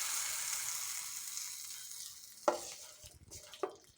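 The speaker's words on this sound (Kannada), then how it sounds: "ಒಗ್ಗರಣೆಯನ್ನು ಗೊಜ್ಜಿಗೆ ಹಾಕ್ಕೊಳ್ತೀನಿ." Hot tempering poured into a gojju gravy made with dindina kaayi, a soft sizzle fading over two seconds, then a sharp splash-crackle and a few stirring clinks near the end, up close with no talk.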